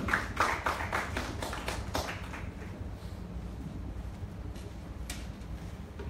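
Church congregation clapping together in rhythm at a worship service, a steady run of hand claps that is loudest in the opening seconds and then settles into a dense, even patter.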